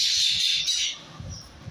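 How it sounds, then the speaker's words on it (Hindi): Mynas squawk noisily together in a harsh, chattering burst that fades after about a second, leaving faint low background rumble. "देख रहे हैं मैना कितना शोर कर रही हैं"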